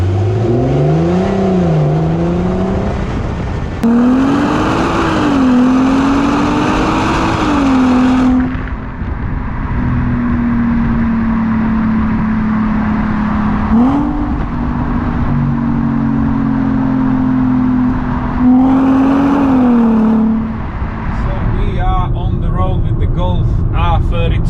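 A VW Golf R32 with a freshly replaced timing chain drives on the road, its engine droning loudly and rising and falling in pitch through several gear changes, with a voice talking over parts of it.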